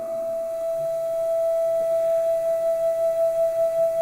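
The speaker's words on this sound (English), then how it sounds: "they invented a little machine that shakes the wind" Low pipe organ notes in a chapel with the tremulant on, a sustained steady tone whose loudness wavers in a regular pulsing shake, growing stronger toward the end.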